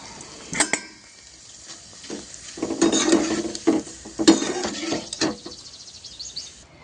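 Grated potato shreds, made a day earlier, fry with peanuts in a pan as a spatula scrapes and clinks against the metal, with bursts of crackling sizzle between the strokes; no speech.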